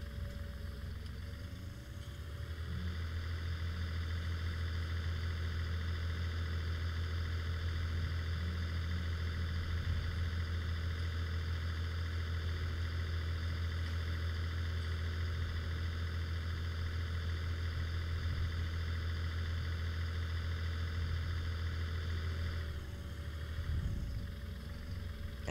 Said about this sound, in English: So I'm gonna move the tractor